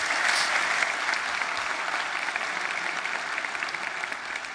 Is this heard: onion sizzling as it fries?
no